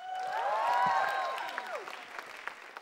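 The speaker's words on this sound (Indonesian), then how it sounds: "Tepuk tangan untuk Ernest" An audience claps together in a swelling burst of applause that gradually thins out as the clapping fades away.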